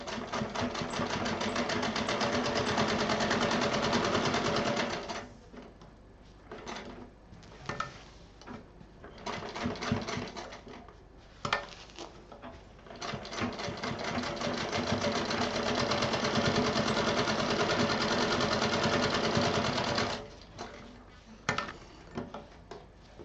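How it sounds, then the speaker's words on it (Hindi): A sewing machine stitching a fabric multi storage pouch, loud continuous whirring runs in bursts of several seconds with short pauses and handling clicks between them, no talk. "दूसरी तरफ का भी हम इसी के साथ सिल देंगे।"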